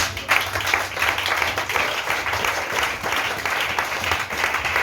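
A church congregation applauds and cheers, sustained dense clapping with shouts mixed in, loud and continuous throughout.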